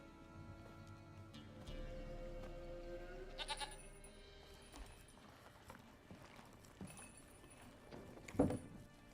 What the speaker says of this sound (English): You got a goat there.